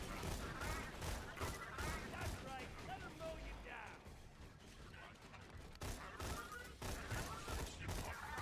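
Rapid bursts of Wild Clamp assault rifle fire rattle continuously in Borderlands, dense and close, with mechanical clatter mixed in under a voice talking.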